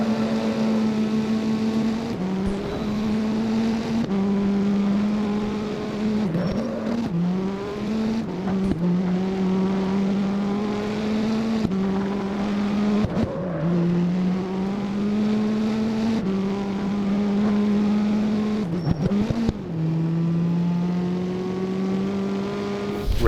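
Engine of a Nissan 240SX in a racing video game, a sustained loud drone that rises and drops sharply with each gear shift and throttle change, with occasional scraping and other cars underneath.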